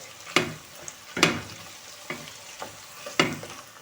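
Soft sizzling of cabbage stewing in a pan broken by several sharp scraping strokes of a stirring utensil, about one every half second to second, close by.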